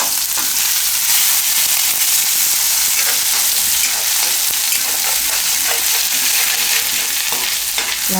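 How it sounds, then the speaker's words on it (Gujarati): Turmeric roasting in hot oil in a pan on a low gas flame, a loud, steady broadband sizzle with occasional stirring scrapes, close and continuous throughout. "ગરમ થઈ ગયું, તો એમાં આપણે પહેલાં નાખીશું આ હળદર, એટલે શેકાઈ જાય"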